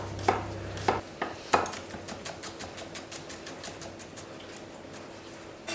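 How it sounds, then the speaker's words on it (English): A knife taps sharply on a cutting board a few times while onion and garlic are chopped, then gives way to a steady run of light, rapid cuts at close range. "Cut the onion and garlic."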